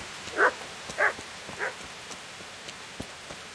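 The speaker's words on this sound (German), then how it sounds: "Ein Hund." A dog in the Kingdom Come Deliverance video game gives three clear barks spaced about half a second apart, a little distant, followed by faint clopping footsteps in a quiet setting.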